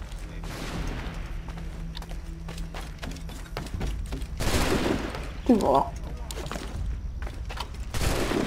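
Gunfire rings out in Assassin's Creed 3, a few sharp bursts and shots against a busy in-game background, with someone talking and a clear vocal exclamation in the middle.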